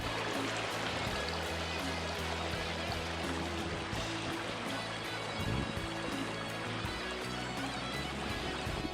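Creek water runs steadily in a Tasmanian forest near Mount Field National Park, a continuous broadband rushing and trickling that fills the whole stretch without pause.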